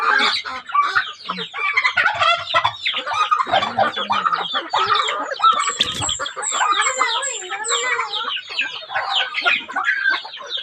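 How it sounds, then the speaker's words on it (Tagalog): A busy flock of turkeys and chickens clucks and gobbles continuously, overlapping calls near and far, with a rooster-like crow rising briefly midway. "may pabo, may manok"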